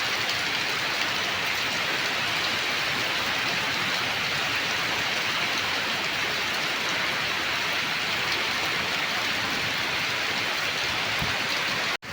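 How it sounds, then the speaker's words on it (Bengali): Heavy rain pours steadily onto a pond as a dense, even hiss. The sound stays close and constant throughout, with no voices. "পুকুরে বৃষ্টি পড়ছে এবার বৃষ্টিটা বেশ জোরে এসেছে"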